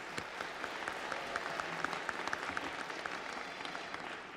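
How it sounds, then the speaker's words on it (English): A large crowd of new citizens and guests at a U.S. naturalization ceremony at the Payne & Mencias Palladium applauds steadily, a dense even patter of many hands clapping in a big hall. "Well worth the applause"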